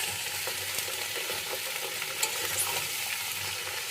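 Mango pieces frying in hot oil with panch phoron for a sweet-sour-spicy mango pickle, a steady dense sizzle with faint stirring scrapes throughout, close and continuous with no talking.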